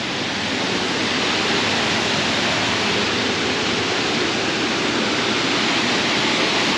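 The Falls of Falloch pour in a steady, dense roar of rushing water, loud and close, with no pauses and no voices.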